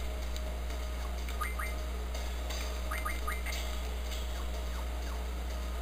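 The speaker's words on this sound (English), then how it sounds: "I hate that alarm." An alarm in the video game Final Fantasy 8 chirps in quick repeated electronic bursts over a steady low game hum, fairly clear with no voice over it.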